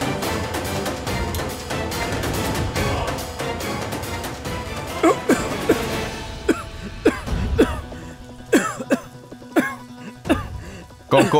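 A man coughs in a dubbed Indian drama series, a run of sharp, loud hacking bursts in irregular rhythm, the first part buried under dense music and other sound before the coughs stand out more clearly.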